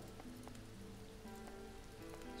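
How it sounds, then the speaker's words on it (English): Heavy rain downpour in the survival game Mr. Prepper, a dense steady hiss of falling water with faint tonal game music underneath, alone without talk. "when it's raining like this, the water, it pretty much fills almost instantaneously with a heavy downpour like this"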